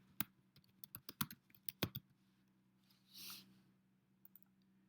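Typing on a computer keyboard produces a quick irregular run of crisp, close keystroke clicks, then a brief soft rustle and a couple of isolated taps in a quiet room.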